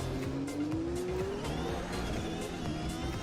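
A modern Formula 1 car in a racing video game accelerates out of the hairpin on a 1930s Monaco layout, engine droning and rising steadily with a brief tire squeal, close and continuous with no talk.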